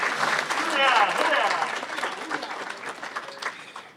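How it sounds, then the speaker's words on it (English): Applause for a speaker at a historical society dinner, a dense clapping wash that peaks early and slowly thins, with voices and a brief cheer mixed into it. "Another round of applause for Ed Clemente"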